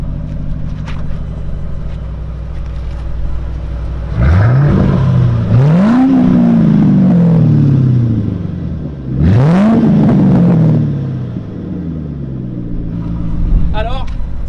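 A Ford Mustang engine with an aftermarket custom exhaust, revving twice in strong rising blips over a steady idle rumble, close and loud, with someone talking around the revs.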